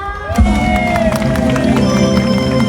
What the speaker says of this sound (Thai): เสียงปรบมือให้แม่ไอซหน่อยจ้า